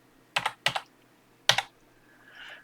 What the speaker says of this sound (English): So we're just typing those in.